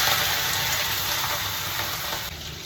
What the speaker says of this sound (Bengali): চিংড়ি মাছ আমার বয়েল হয়ে গেছে, বয়েল করে নিয়েছি। এবার আমি তেলে ফ্রাই করব।